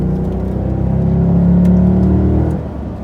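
Chevrolet Impala SS engine pulling hard out of a turn, a steady close rumbling drone that swells in loudness mid-way and then eases off, with no talking.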